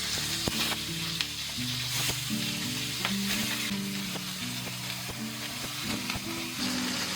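Leatherjacket fish pieces pan-fry in a home kitchen, giving off a steady close sizzle and crackle with occasional sharp pops, while soft background music plays underneath.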